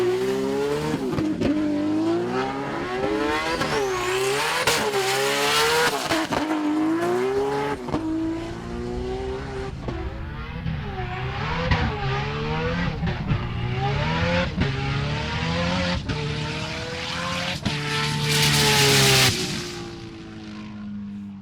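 A street-driven Nissan GT-R makes a drag-racing pass on an airport runway at the 2014 GT-R Challenge in Australia. The engine roars loudly through repeated rising sweeps and gear changes, close and continuous.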